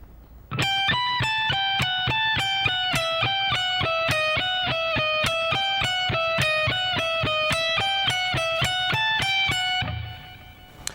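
Electric guitar playing a rock speed-soloing lick at a slow tempo, a steady stream of evenly picked notes with accented downstrokes repeating the same pattern high on the neck for about nine seconds.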